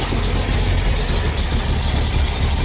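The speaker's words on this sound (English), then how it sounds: "Man, that thing idles perfect." A freshly built engine with twin Eaton M90 superchargers idles close by on its first start, a loud, even, unbroken rumble with no voices.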